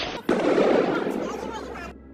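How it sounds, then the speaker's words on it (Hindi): Gunfire during street protests in Iran: a sharp loud crack bursts out, then a rough noisy din of crowd and commotion carries on for nearly two seconds. "आगजनी, तोड़फोड़, नारेबाजी और फायरिंग की आवाजें सुनाई दे रही हैं।"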